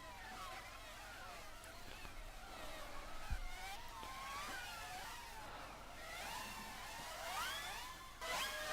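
A Formula 1 race car spinning out in a video game, heard as a continuous mid-pitched engine whine that keeps sweeping up and down, with several cars audible and a sharp thump partway through.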